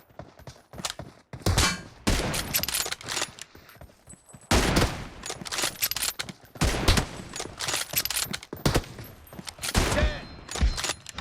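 Gunfire in PUBG Mobile on a team deathmatch arena map, with sharp close bursts and single loud shots in rapid uneven volleys, brief pauses between, filling the clip without talk.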